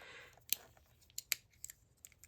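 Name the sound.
Midori extra small compact scissors being handled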